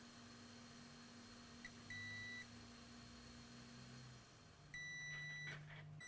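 A multimeter in diode mode beeps twice while probing an iPhone 6 logic board for a short, each a clear sustained tone of about half a second over a faint steady room hum.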